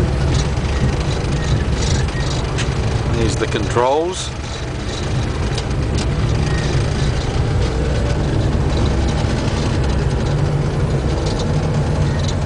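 A locomotive engine running in the cab with New Zealand's longest serving engine driver, a constant heavy low rumble and drone as the train nears a tunnel, with someone talking over it and a brief dip partway.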